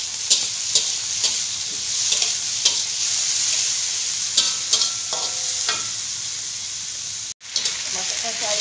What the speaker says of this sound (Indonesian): Masukkan sayur, kita kacau-kacau sikit.